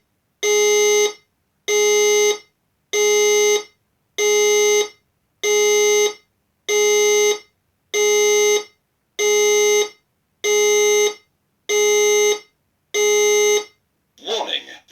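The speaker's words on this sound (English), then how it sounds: "Warning, the fire alarm system has operated." A fire alarm system sounds a loud, steady series of about eleven evenly spaced electronic tone bursts, each roughly a second long with short gaps. A brief burst of a different sound comes at the very end.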